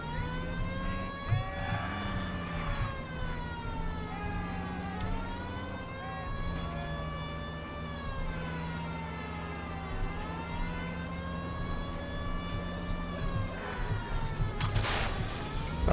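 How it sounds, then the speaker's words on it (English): A police car siren in the video game L.A. Noire wails continuously and loud, its rising and falling tone sweeping over engine rumble throughout. "The siren, Cole. Use it."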